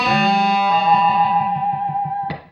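Electric guitar played through its bass pickup alone, turned all the way up, giving a dark, muffled, tunnel-like tone; a held chord rings out, then a run of repeated plucked notes pulses steadily before a final strum.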